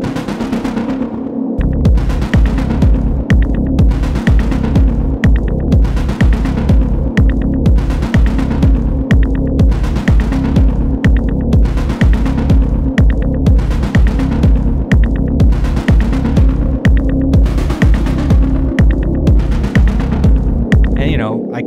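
A techno synthesizer pattern smoothed by a gentle squeeze compressor preset, pulsing in a steady, loud, even throbbing rhythm with a sustained low drone underneath for the whole stretch.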